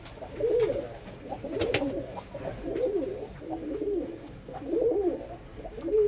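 Male flying pigeons kept in a loft coo in repeated low, rolling phrases, about five bursts in steady rhythm, close and moderately loud with no talk.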